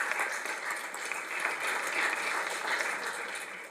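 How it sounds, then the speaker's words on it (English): Audience at a city council meeting applauding a high school cheer team, a steady wash of clapping from a modest crowd, even and sustained, at moderate distance. "I think that was worth an applause right there."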